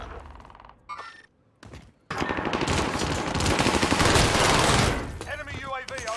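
Rapid automatic gunfire from a weapon in a first-person shooter plays back as a dense, loud burst of shots over several seconds, after a few brief quieter sounds, with a voice talking over the game audio.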